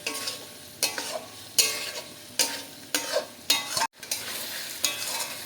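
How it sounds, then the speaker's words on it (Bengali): Fried potatoes are tossed with cooked spice paste in a pan. About eight rhythmic spatula strokes scrape and clatter against the metal, each followed by a hissing sizzle, with a brief gap near the middle. "ভেজে রাখা আলুটা দিয়ে দেবো দিয়ে ভালো করে কষিয়ে দেবো আলুটা মশলার সঙ্গে"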